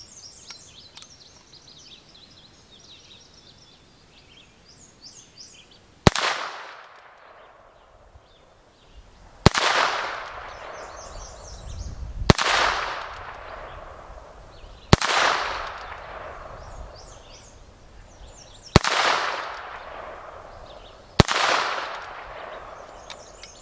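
A Heritage Rough Rider Rancher carbine firing .22 Magnum rounds outdoors, with six sharp shots at intervals of roughly three seconds, each leaving a brief decaying echo, and faint birdsong in the background.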